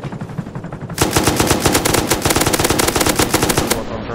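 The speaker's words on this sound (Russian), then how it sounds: "Так, сейчас он будет по нам стрелять" An attack helicopter in Rust fires at the player in a loud, rapid machine-gun stream, tight evenly spaced shots roaring for about three seconds after a quieter lead-in.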